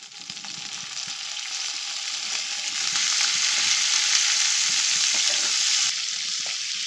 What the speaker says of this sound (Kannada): ಈರುಳ್ಳಿ ಸ್ವಲ್ಪ ಫ್ರೈ ಆಗಿದೆ ಈಗ ಇದ್ರ ಜೊತೆಗೆ ಟೊಮ್ಯಾಟೊ ಕೂಡ ಹಾಕ್ಕೊಳ್ತಾ ಇದ್ದೀನಿ